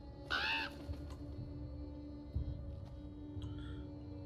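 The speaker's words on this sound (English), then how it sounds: "That's just a crow" A single crow caws loudly once in the game Draugen, a harsh nasal call, then silence falls over a low ambient drone with faint distant thuds and a softer bird call near the end.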